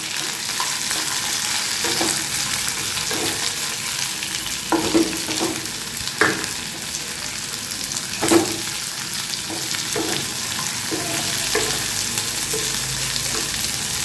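Onions sizzle steadily in hot oil in a pan while a raw jackfruit chili dish is cooked at home. Occasional stirring scrapes and knocks break through the constant close frying hiss.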